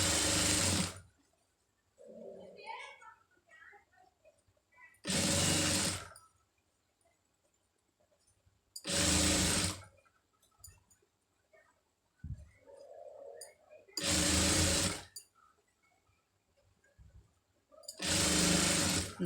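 A sewing machine stitches piping between two pieces of cloth in five short, loud, evenly spaced bursts, with quiet gaps of fabric handling and faint clicks between each run.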